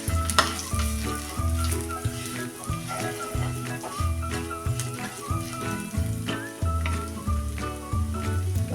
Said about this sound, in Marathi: आता वडीला पण येण्यासाठी ते शेंगदाण्याचं कूट आपण ह्या तेलात थोडा वेळ परतूया